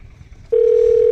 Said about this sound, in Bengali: চলো মানুষ দুইজনে এরে ফোন লাগাই ফোন লাগাই ফোন লাগাই